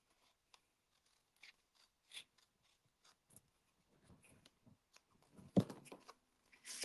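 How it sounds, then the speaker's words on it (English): Stampin' Up scissors snip paper during a craft project, giving a few faint, scattered cuts and rustles that build to a louder crunch near the end, with no talking. "Oh, my good old Stampin' Up scissors. They're the ones I want."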